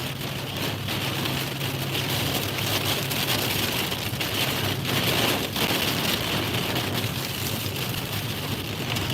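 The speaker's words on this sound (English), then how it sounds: "I'm definitely going through a storm right here where I'm at." Steady rain mixed with tiny hail pelts a car driving slowly on a highway through a storm, a dense unbroken hiss on the roof and glass with a low road rumble underneath.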